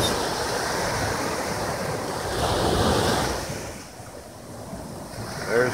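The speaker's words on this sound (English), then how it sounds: "You can hear the waves crashing." Gulf of Mexico surf breaking steadily close by at night, a continuous loud wash that swells and recedes, with wind buffeting the microphone and no voices.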